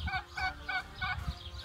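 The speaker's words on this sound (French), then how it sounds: "Des dindons. ils sont en train de se présenter aussi" Turkeys on a farm give a run of four or five rapid, warbling gobbles in quick succession, close and moderately loud.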